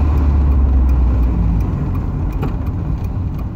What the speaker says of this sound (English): How you guys like that rev matching?